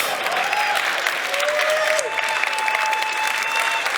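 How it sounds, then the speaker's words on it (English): Dense, steady audience applause filling the whole stretch, a loud wash of many hands clapping with a few faint whistles and cheers mixed in, no break. "They deserve every applause they get"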